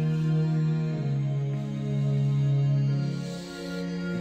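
Piano-type melody made in Logic Pro X, with sustained tones shifting between a few pitches in a smooth legato line, played alone at steady volume.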